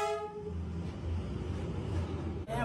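A train rolls past on a track running through a tight space, a low rumbling drone with a faint horn tone at the start, fairly quiet and without speech.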